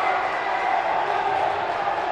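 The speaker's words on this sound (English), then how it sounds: "A sizable yet partisan crowd for the Eagles. Voice their approval with that one." A sizable, partisan homecoming basketball crowd cheering for the Eagles, a steady broad roar of approval filling the gym without letup.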